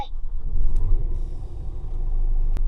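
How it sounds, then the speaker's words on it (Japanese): A 2022 Scania R410 heavy truck's engine turns over and settles into a steady, deep diesel rumble heard from inside the cab, with a couple of faint clicks over the continuous drone. "それではねエンジンかけていきます"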